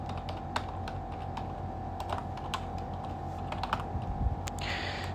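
Soft, close clicks from a computer keyboard in a quiet room, a short irregular burst of keystrokes over a faint steady hum.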